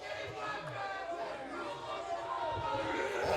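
Split wrestling crowd roaring and chanting in the Impact Zone arena in Las Vegas, a dense continuous wash of voices building slightly louder toward the end.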